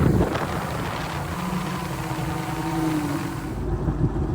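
A rebuilt 2000 Kawasaki Ultra 150 jet ski engine idles in a smooth, steady low drone, close by, with some wind buffeting the microphone and no talking.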